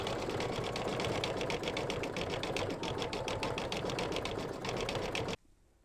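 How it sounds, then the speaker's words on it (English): A home embroidery machine stitches out a tree design, a fast steady needle chatter that runs continuously at close range and then abruptly stops. "Okay, it finished stitching out the trees."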